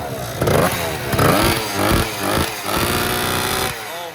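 A rare scooter's small engine revved hard at a large group rideout, with a loud, close, buzzing whine that rises and falls in pitch through several quick throttle blips.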